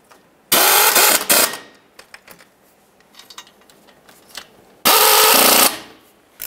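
A power ratchet or impact tool runs the water pump bolts down on a 2003-09 Toyota 4Runner in two loud, sustained bursts, with quieter clinks and tool handling between them.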